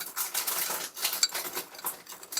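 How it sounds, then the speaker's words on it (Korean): Starch mixed with water being stirred briskly in a bowl, a continuous scraping clatter of a utensil against the dish with quick uneven strokes, no voices. "이렇게 전분 물을 풀은 다음에 이걸 섞어줍니다"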